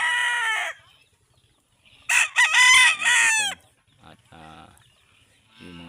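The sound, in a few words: red junglefowl (labuyo) hen and chicks clucking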